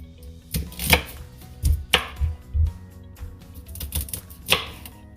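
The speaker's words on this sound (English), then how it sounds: "let's cut the asparagus into 2 inches" Knife chopping asparagus into pieces on a board, a handful of loud, close, uneven chops with quiet gaps between them.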